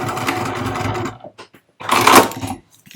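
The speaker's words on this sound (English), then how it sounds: "I am going to go ahead and reinforce that with a bit of stitching right now" A sewing machine runs two short bursts of reinforcing stitches through fabric, a steady whirring run of about a second followed by a brief pause and a second louder burst, close and alone.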